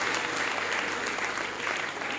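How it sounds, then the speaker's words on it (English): Audience applause for panelists at a forum session, a dense, steady ovation of many clapping hands sustained loudly and close throughout without pause. "please give our panelists another round of applause"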